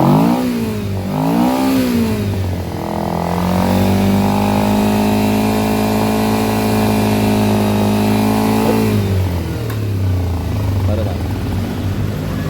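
A Kawasaki Ninja 250R motorcycle with a carb engine revs up and holds a high steady roar, then drops back to idle. The engine is close and loud, with voices in the background.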